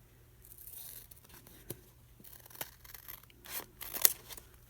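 Scissors snip through paper for a handmade journal, a quiet close-up series of crisp cuts and rustles that grow a little sharper toward the end.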